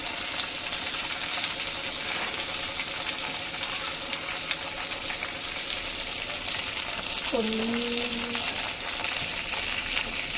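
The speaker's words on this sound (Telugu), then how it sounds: "గరం మసాలా వేయాలి. ఇవన్నీ ఫ్రై చేయాలి." Spices with garam masala sizzle steadily in hot oil for a fish pulusu, a constant frying hiss with a brief tonal squeak partway through.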